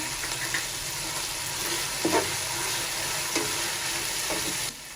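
Cumin seeds and bay leaves sizzle steadily in hot oil for mutton pulao, a dense continuous crackle with a few soft stirring clicks near the middle, ending abruptly just before the close.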